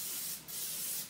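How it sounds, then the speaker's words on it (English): Pam cooking spray hisses into a 9 by 13 inch baking pan in a steady close burst lasting about a second, with a brief dip partway through. "I'm gonna take a 9 by 13 inch pan and I'm gonna put some Pam in it."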